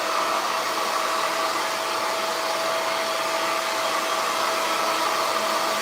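A hot hair blow dryer runs steadily throughout, a loud, even whooshing hum with a faint whine, used during a quickweave install and blowout.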